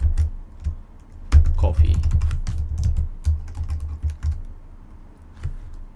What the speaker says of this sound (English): let's type some text here